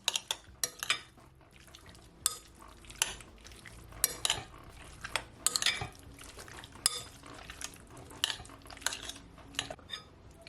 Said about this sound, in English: Then you just want to mix it all in.